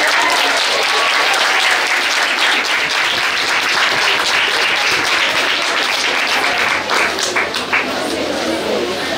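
Loud, dense applause from a school audience at a national chocolate museum and heritage complex, continuous clapping filling the space with a few voices mixed in near the end.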